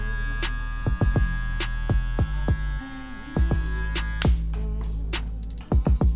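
Electric hair clippers fitted with a 3 mm guard cut a fade, giving a steady, close electric hum broken by several sharp clicks and taps. The hum briefly shifts near the end.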